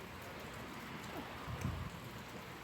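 Rain falls steadily during a thunderstorm, a dense, even hiss with no clear thunder and no voices.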